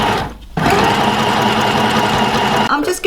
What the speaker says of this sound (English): it's a straight stitch, and I'm just outside of where I can see the stitch line of my Go Faster stripe.